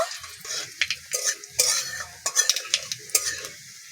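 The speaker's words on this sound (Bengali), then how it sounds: "ফোড়নটা ভাজা হয়ে গেছে" Cumin seeds and a dried chilli sizzle and crackle in hot mustard oil, with the clink of a spoon stirring against the pan, close up and with no voices.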